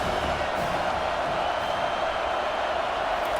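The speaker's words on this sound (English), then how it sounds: "This crowd trying to make life miserable for this offense." Steady, dense roar of a college football stadium crowd at Oregon State versus Notre Dame, a continuous wash of noise without distinct cheers.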